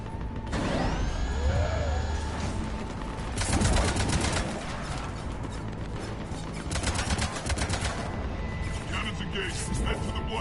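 Ship cannons fire in the video game Mass Effect 3, heard as loud rapid broadband volleys in two main bursts over a constant backdrop of mechanical clatter, whirring and game ambience.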